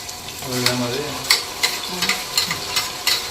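Onions and ginger-garlic paste sizzle steadily in a pan while a ladle scrapes and stirs in a regular rhythm, close and fairly loud.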